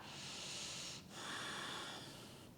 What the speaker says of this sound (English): Ujjayi pranayama. That constriction in the back of the throat, the heat that comes with that breath.